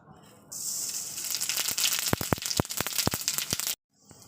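Whole raw cumin seeds hit hot oil in a pan, bursting into a loud steady sizzle with sharp popping crackles scattered throughout, then cutting off abruptly.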